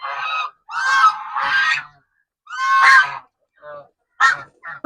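Nesting domestic geese honk loudly and close by in a series of harsh, nasal calls, some drawn out and others short, separated by brief silences.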